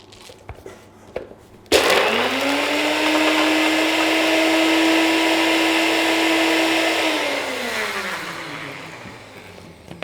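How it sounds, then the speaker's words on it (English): A blender blitzes nuts and basil into a smooth pesto paste, starting abruptly and holding a loud, steady whirring motor drone for several seconds before spinning down near the end. "So blitz it to a smooth paste."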